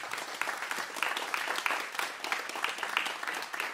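Concert audience claps after a jazz quintet's performance, a steady, fairly soft patter of many hands that stays even throughout the stretch, no voices standing out.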